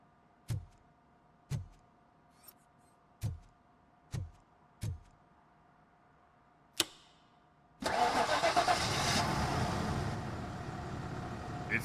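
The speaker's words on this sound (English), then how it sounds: "It started." A car engine in the video game RoboCop: Rogue City is cranked several times as evenly spaced sharp clicks, then catches and roars into a loud, steady idle that settles slightly lower toward the end.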